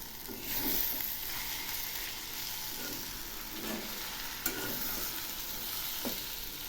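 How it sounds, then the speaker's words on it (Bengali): Spinach frying in a pan with garlic paste, stirred with a utensil: steady close sizzle with soft scraping strokes and a sharp clack partway through, no voices. "আবার একটু নেড়ে দিচ্ছি।"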